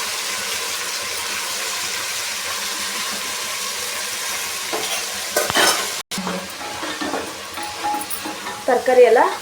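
Mixed vegetables including peas, cabbage, beans and carrots stir-fried in a pan for pulao, with a steady close sizzle and scraping stirs that grow louder and more irregular toward the end.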